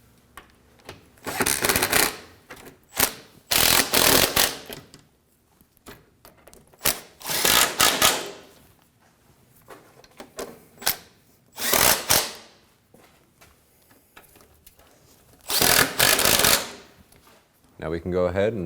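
Short bursts of ratchet clicking come and go as bolts are snugged down on a 2009-2014 Ford F-150 3.5L V6 during an oil pressure switch job, close and loud, separated by quiet gaps.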